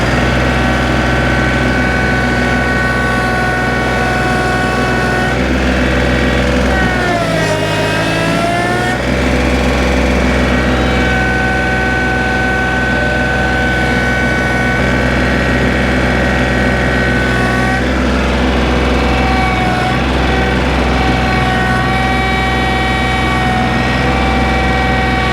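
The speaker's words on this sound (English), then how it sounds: "Well, the little tractor just didn't have it in her." The engine of a small tractor runs steadily and loudly for the whole stretch while working, with slight shifts in load partway through and no one talking.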